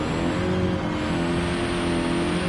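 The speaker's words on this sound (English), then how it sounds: "JCCR Crispy in the Mustang, putting this Focus RS in its place." A Ford Focus RS race car engine in a dirt track sim racing game drones steadily and loud throughout, a constant buzzing engine note with no talk over it.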